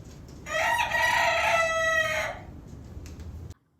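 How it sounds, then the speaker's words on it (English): A young Silkie rooster crows for the first time, a single drawn-out cock-a-doodle-doo lasting about two seconds, clear and fairly close, followed by quiet background. "the first time we heard Silky crowing"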